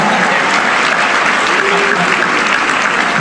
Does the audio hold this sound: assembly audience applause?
yes